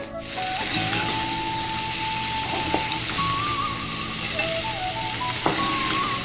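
Okra (bendakaya) going into a hot pan for a masala curry, producing a continuous close sizzle and frying crackle with light stirring and rubbing noises throughout.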